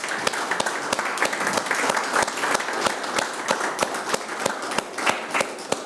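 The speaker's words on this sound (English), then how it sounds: "Can we please give her a round of applause?" Audience applause at a fireside chat greets a special guest, a city council member, as dense, lively clapping with distinct sharp claps runs steadily throughout at close range.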